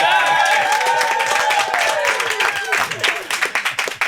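A television studio audience applauds in a sustained, dense round of clapping that is loud at first, then thins into scattered claps toward the end.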